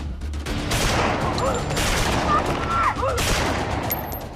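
Gunfire in a drama scene in which terrorists occupy a village: rapid overlapping volleys of shots, loud and close, with shouting voices mixed in.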